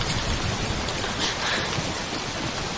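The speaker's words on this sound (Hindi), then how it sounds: "बीच में बारिश कहाँ से आ गई?" Sudden rain pours down in a drama scene, a dense, steady hiss that stays loud and unbroken throughout with no voices.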